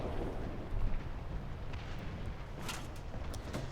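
Tank cannon fire in War Thunder during a Panzer III N engagement against a Matilda at long range: dense rumbling battle noise with booming bursts, a louder thump near the start and sharp cracks toward the end.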